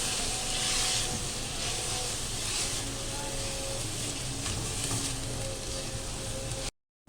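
Shredded cabbage frying in a pan for chicken chow mein: a steady, soft sizzle and hiss with occasional stirring scrapes, close and constant, cutting off abruptly at the end.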